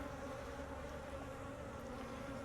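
Bees hum around a strong, open hive during a frame inspection, a faint but steady, continuous buzzing drone with no voices.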